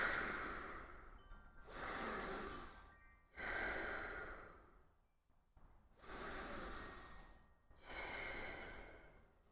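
Slow, deep yoga breaths drawn in and let out through the nose, four long airy strokes of about a second and a half each with short pauses between, close and fairly soft.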